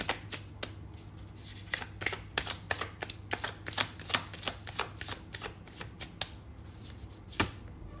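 Tarot cards are shuffled by hand in a series of crisp, quick riffles and snaps, close and fairly quiet, irregularly spaced over several seconds with a low background hum and no talking.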